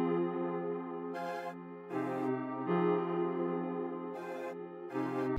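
Sustained synth chords from the Kontakt Ondine bank, Silk Chick preset, change every second or so in a warm, layered progression. They play alone at moderate volume.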